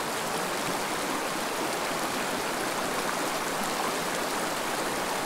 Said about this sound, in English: This is a high elevation stream.